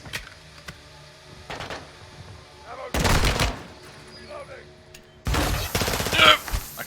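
Bursts of automatic gunfire in the Modern Warfare 2 campaign, two loud heavy volleys separated by quieter moments with faint voices between.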